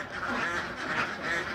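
A domestic duck, one that has stopped laying eggs and is moulting, gives a short run of close, nasal quacks in quick succession, heard alone without talk.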